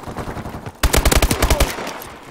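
Rapid automatic bursts from an MP11 submachine gun in Call of Duty: Advanced Warfare multiplayer, a loud close string of about a dozen shots after a brief quieter lead-in.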